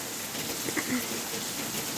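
Rain falling at night: a steady, even hiss of close rainfall on surfaces, moderately quiet and unbroken, with no voices.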